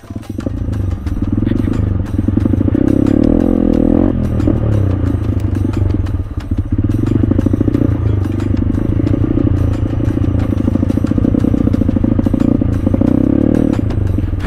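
A motorcycle engine runs steadily and loud throughout, rattling and vibrating as it rolls down a concrete backroad, with a constant close-up drone and mechanical clatter.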